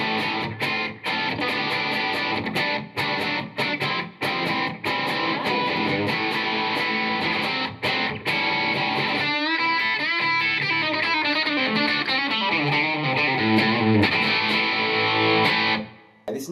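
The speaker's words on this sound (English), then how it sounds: "this is a Plexi with a 4x12 with greenbacks in it and a little bit of reverb" Electric guitar played through a Marshall Code 50 amp on a Plexi model into a 4x12 cabinet with Greenback speakers and a touch of reverb, a loud distorted rock tone of chords and riffs, later moving into sustained lead bends before stopping abruptly.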